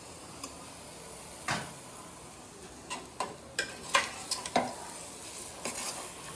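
Chicken frying in a masala in a pan, with a quiet background sizzle and a series of crisp spoon scrapes and taps against the pan, clustered close together in the middle and close to the listener.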